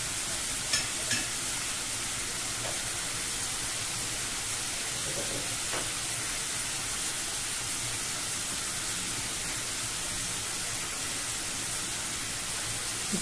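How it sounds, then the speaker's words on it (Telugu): A tomato and brinjal curry fries in a pan with a steady, soft sizzling hiss throughout, broken only by a few faint clinks. "ఇట్లా వేగనివ్వండి కర్రీని."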